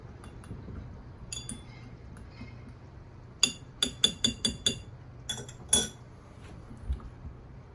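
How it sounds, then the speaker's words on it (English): A small absinthe spoon clinks against a glass of absinthe as it stirs and scrapes, giving a quick run of bright metallic taps and a few scattered clinks, close and fairly faint over a quiet room. "you take your little absinthe spoon and you give it a little stir"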